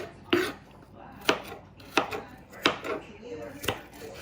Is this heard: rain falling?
no